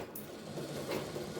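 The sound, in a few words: sewing machine stitching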